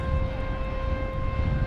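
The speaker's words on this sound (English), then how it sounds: "noise blaring in the background is an air start for one of the UPS planes." A loud, steady mechanical whine with a constant pitch blares without pause from an air start unit beside a parked UPS jet at night at DFW Airport.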